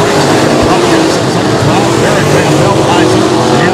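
B-Modified race cars roar through a heat race at Rapid Speedway, a steady loud engine drone heard under continuous announcer commentary.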